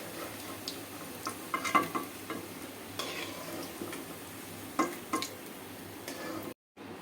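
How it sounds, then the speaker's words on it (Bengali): Fish koftas made from catla sizzle softly in hot oil in a wok, with quiet crackling and occasional clicks of stirring, no talk. "এখন কোপ্তাগুলো দিয়ে দিচ্ছি ভাজার জন্য।"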